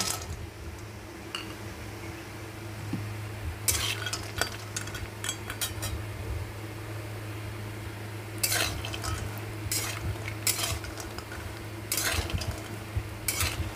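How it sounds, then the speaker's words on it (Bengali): Bori lentil dumplings frying in hot oil in a wok, a steady low sizzle with bursts of metallic clinks and scraping from stirring, close and continuous with no talk. "বড়িটা আমি ভাজার পরে আসছি"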